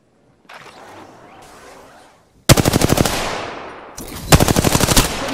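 Light-ammo weapon fire in the Apex Legends video game, loud rapid automatic bursts that crack out in two close volleys after a quieter stretch of in-game ambience.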